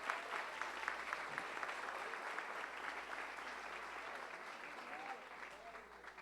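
A church congregation applauds during a Sunday-morning worship service, a steady, dense wash of clapping from many hands that stays loud and even throughout, with faint voices mixed in beneath.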